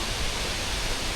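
A popular waterfall in southern Laos pours down in a dense, constant rushing roar, heard up close with no voices.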